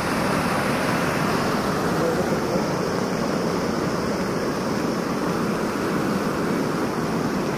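A flooded river rushing after heavy rain in July, a steady, loud broadband roar of churning water, unbroken for over seven seconds and heard close with no talk.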